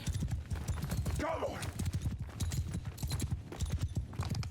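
Galloping horse hooves from horse archers in the video game Mount & Blade II: Bannerlord, a dense, steady clip-clop with a brief neigh, running under continuous speech.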